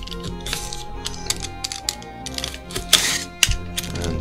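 A corner of a tabletop terrain piece is cut out by hand, heard as a run of close, sharp clicks and scraping snips, with a couple of louder crunchy bursts near the end.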